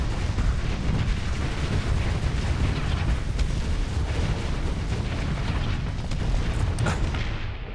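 Missile explosions in a Starsector space battle as missiles chase a frigate. Continuous loud booms and blasts rumble together with sharp cracks, filling the whole stretch with dense, layered detonations.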